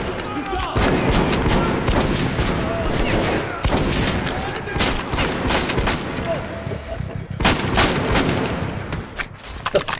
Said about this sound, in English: Who's shooting me from behind, or what?